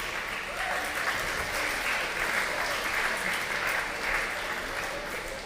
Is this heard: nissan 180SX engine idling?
no